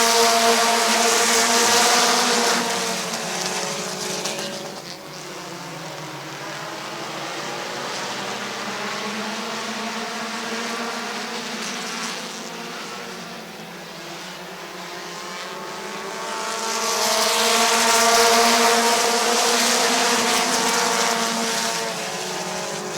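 Race cars roaring around Midvale Speedway, a loud continuous engine drone that rises and fades as the pack passes, with a strong surge near the start and another near the end.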